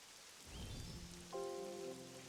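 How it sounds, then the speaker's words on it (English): Steady rain hiss with light pattering in the video game Pokopia, alongside soft chiming musical tones and a brief rising whistle. "Yay, it's raining."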